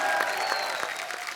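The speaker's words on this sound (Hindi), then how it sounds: "तो जोरदार तालियां बजाएं किसके लिए? तापसी पन्नू और कीर्ति कुल्हाड़ी के लिए।" Studio audience applause on a Kapil Sharma comedy show, welcoming actresses Taapsee Pannu and Kirti Kulhari: lively, continuous clapping from a crowd, loud and close, with a few distinct sharper claps standing out and no talk over it.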